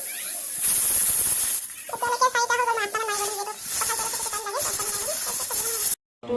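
Jackfruit curry boiling hard in a pot on a home stove, giving a loud, steady steam hiss with wavering whistle-like tones that rise and fall for several seconds before cutting off near the end.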